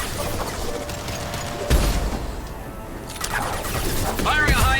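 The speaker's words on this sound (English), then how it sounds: "Firing a high impact shot!" Mass Effect 2 combat gunfire, a heavy impact shot and bursts of weapon fire with mechanical clatter, with game dialogue heard over the action.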